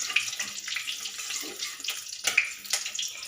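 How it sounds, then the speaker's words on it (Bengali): Whole cumin seeds and slit green chillies sizzle in hot oil as a tempering for a Bengali fish curry, giving a steady, close crackle with a few sharper pops and no talking. "এবার আমি এই তেলের মধ্যে দেব কটা গোটা জিরে ফোড়ন এবং দুটো কাঁচা লঙ্কা হাফ হাফ করে চিড়ে নিয়েছি, সেই কাঁচা লঙ্কা ফোড়ন।"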